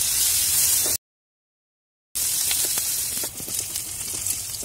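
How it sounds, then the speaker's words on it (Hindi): Chopped onions fry in a pan toward light brown, a steady broadband sizzle and hiss with small crackles, close and fairly loud, broken by a short gap of silence before the frying resumes. "इसको लाइट ब्राउन होने तक हम भूनेंगे।"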